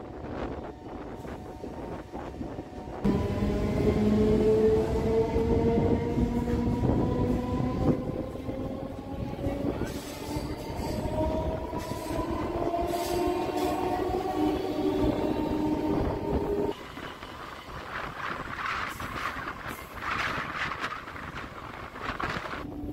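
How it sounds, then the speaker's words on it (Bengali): A Budge Budge–Naihati local train in West Bengal runs along the line with a loud, continuous rumble and rising, whining motor tones, wind buffeting the microphone throughout, with the pitch dropping near the end. "শিয়ালদা কাটোয়া গ্যালোপিং, এই ট্রেনটা আমাদের আগের ট্রেন।"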